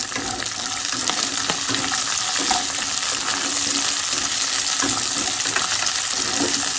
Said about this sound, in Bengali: এইবারে এখানে মটরশুঁটিটা দিয়ে আর একটু নাড়ব।